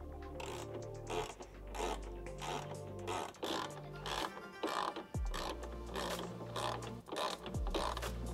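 A 10 mm ratchet snugging down the mounting bolts of aftermarket LED taillights on a second-generation Toyota Tacoma, close, rapid clicking bursts with short pauses between pulls.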